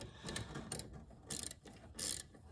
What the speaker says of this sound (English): Just got to tighten up this bolt,